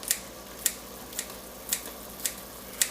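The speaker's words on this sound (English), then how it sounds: "This looks like a job for kitchen scissors." Kitchen scissors snip through a Slim Jim beef stick over a pot of water, six sharp, evenly spaced cuts about half a second apart, close and crisp against a quiet background.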